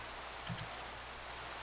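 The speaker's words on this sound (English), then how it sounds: "I can hear it raining" Rain falling in the video game Minecraft, a steady hiss of drops that fills the whole stretch with a couple of faint soft thumps partway through.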